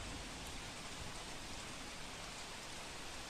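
Unseasonal heavy rain falls during a storm over farmland in Surendranagar, Gujarat, as a faint, steady, even wash of rain noise with no other sounds.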